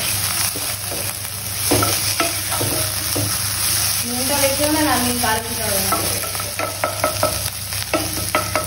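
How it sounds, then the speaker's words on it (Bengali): Leafy greens fry in a pan on a gas stove in a Bengali home kitchen, giving a steady close sizzle broken by repeated clinks and scrapes of stirring, with a voice speaking briefly. "কতগুলো শাকগুলো আর কতগুলো ভাজা হচ্ছে বুঝছো?"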